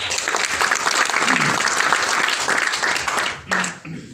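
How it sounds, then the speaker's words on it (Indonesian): Applause from an audience at a religious gathering or sermon in a hotel hall, dense and steady, fading out near the end with a brief voice. "Tepuk tangan dong buat Tuhan."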